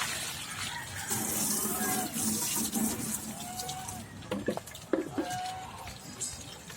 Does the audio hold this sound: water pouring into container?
yes